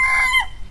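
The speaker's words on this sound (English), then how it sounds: "And yes, the rooster at it again." A backyard rooster crows once, loud and close, in a short strained burst that cuts off abruptly.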